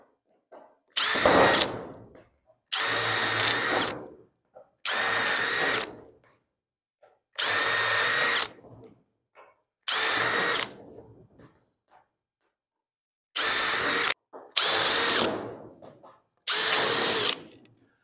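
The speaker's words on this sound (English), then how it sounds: "let's drill all these holes out." A power drill bores holes in snowcat body panels, with eight separate bursts of whirring drilling, each about a second long, separated by short silent pauses and a longer gap near the middle.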